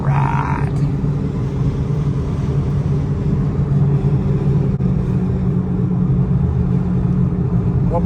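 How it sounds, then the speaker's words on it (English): Steady low rumble from a cheap Ford Mustang on the road, droning from worn tires and front wheel bearings at cruising speed, continuous and fairly loud with no talking. "It's probably a combination of the tires and the wheel bearings in front."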